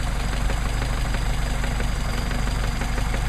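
A Mercedes 190SL engine with Solex PHH44 carburetors idles close by with a steady, even rumble and a faint rhythmic pulse, running alone without any voices.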